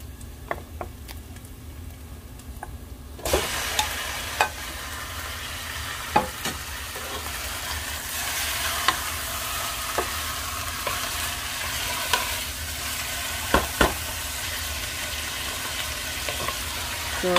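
Chicken pieces frying in a pan for Filipino-style chicken curry: after a quiet opening, a steady close sizzle starts, broken by sharp clicks and scrapes of stirring.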